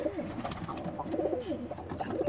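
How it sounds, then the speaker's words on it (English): Roller and frillback pigeons cooing inside a coop, soft repeated rolling coos overlapping at close range, steady and fairly quiet. "But this is the same coop that I've always used for the pigeons."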